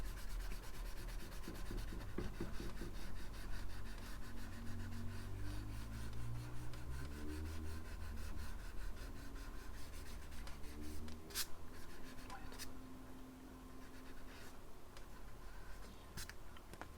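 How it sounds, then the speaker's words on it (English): A kneaded eraser rubs back and forth over pencil lines on paper inked in black, a steady close scrubbing rhythm that goes on without pause, with a few faint clicks near the end. "I grab the eraser. This is a kneaded eraser, by the way, and I'm gonna erase the pencil lines that I just put down."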